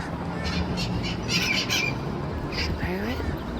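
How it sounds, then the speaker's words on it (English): Green parrots squawking outdoors in a residential neighborhood in Redondo Beach, California, a few harsh calls rising over steady background noise while someone talks nearby. "There's a parrot."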